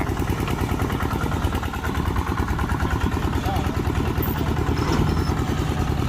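A homemade i-taen grass-harvesting farm vehicle's engine chugs loudly and steadily with a rapid clattering rhythm as it drives, a voice talking over it now and then.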